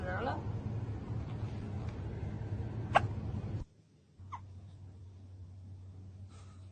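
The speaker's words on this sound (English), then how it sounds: "You have the hiccups?" A cat hiccuping: two short, sharp hics a little over a second apart, the first heard under a person talking and the second in a quiet gap.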